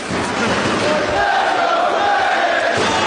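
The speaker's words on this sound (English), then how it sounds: "the crowd here in Manhattan urging him on" A Manhattan wrestling crowd cheers and chants, urging on a wrestler during a Bryan Danielson vs. Takeshi Morishima match, a loud sustained roar with rhythmic shouting that swells and stays strong throughout.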